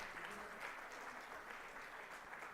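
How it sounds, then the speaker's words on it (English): Applause from the audience at the Bharat 6G Alliance launch: dense, steady clapping from a large crowd, fairly faint and distant, lasting throughout. "they deserve a huge round of applause"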